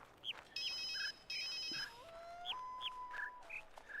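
Synthetic phone-like ringing tones from The Witness video game, a few bright repeated electronic trills mixed with chirpy whistling calls in an outdoor jungle area, moderately loud with no talk.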